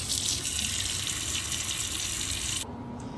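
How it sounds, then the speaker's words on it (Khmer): A kitchen tap runs steadily to wash vegetables, a close, continuous hiss of flowing water that cuts down sharply just before the end. "ខ្ញុំធ្វើការដាក់ទឹកដើម្បីលាងបន្លែយើងឲ្យស្អាត"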